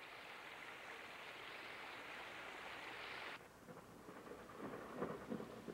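Heavy rain pours in the Smoky Mountains in a dense, steady hiss, then the sound shifts abruptly to a softer, lower rush with deeper rumbling.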